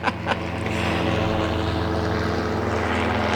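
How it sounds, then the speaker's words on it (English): A helicopter flying low overhead, about 80 feet up, its loud droning engine and rotor hum filling the scene steadily after a couple of brief sharp noises at the start. "we all got distracted by this helicopter flying about 80 feet off the ground"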